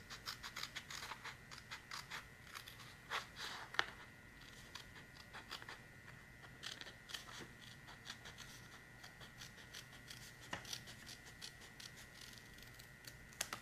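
Scissors snip through a paper planner sticker sheet in a series of short, crisp, close cuts with small rustles between them, fairly quiet and with no talking.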